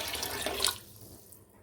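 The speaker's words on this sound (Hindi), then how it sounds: "अब इसमें जाएगा पानी।" Water pours briefly into a cooking pot of chana dal, a splashing rush that stops abruptly and leaves quiet kitchen background.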